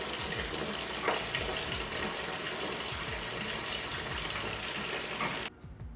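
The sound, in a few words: bathtub filling with water from the tap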